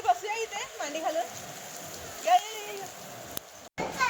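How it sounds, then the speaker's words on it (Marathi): Steady hiss of the first monsoon rain of the season in Mumbai runs underneath people talking and calling out nearby, with a short sharp knock and a brief dropout near the end. "हॅपी रेनी डेज पहिला दिवस पावसाचा"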